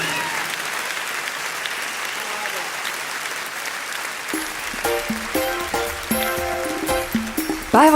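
Concert audience applauding at the Jazzkaar 2002 jazz festival, a steady wash of many hands clapping that continues as instruments enter partway through.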